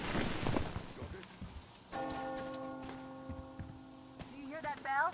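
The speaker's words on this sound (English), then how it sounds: "Do you hear that bell?" A church-like bell in Metro Exodus rings with a sustained, ringing tone for a couple of seconds. Rain patters underneath and a voice speaks around it.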